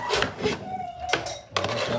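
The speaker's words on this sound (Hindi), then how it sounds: "उठाओ डिश एक एक करके डिश ऊपर कौरमे के लिए।" Serving dishes being lifted and set down at a dinner of Karachi deg biryani and korma, with several close clinks and clattering knocks in uneven bursts and a short pause near the middle.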